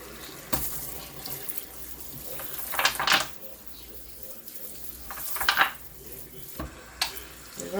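Water splashes and runs intermittently over a cast net being rinsed, bursts of spraying and trickling rising and falling across the clip at close range, with no talking.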